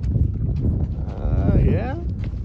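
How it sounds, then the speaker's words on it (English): Cattle on open range, moved along by herding dogs, give a drawn-out low moo partway through, sounding close over a steady bed of wind and rustling outdoor noise. "So you see these cows kind of ran off a little ways."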